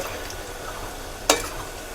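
Goja dough pieces frying in hot oil, giving a steady close sizzle with one sharp clink of stirring partway through; no voices.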